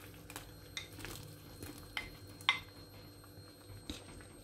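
Pieces of taro root go into a thick tamarind gravy bubbling on medium flame, giving soft clinks and splashes with gentle stirring and faint simmering between a few sharper knocks.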